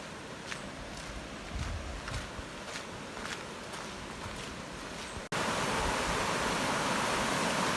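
Rushing water of the Rio Grande River in Portland, Jamaica, a broad steady roar close by, with a few footstep crunches early on before the flow swells louder and fills everything.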